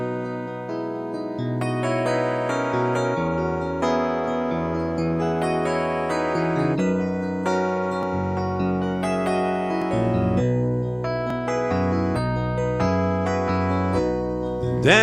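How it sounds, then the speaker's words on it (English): Warm, mellow Fender Rhodes electric piano chords in the low register play a continuous song, rich and full, with no talking. "This is called a Fender Rhodes voice."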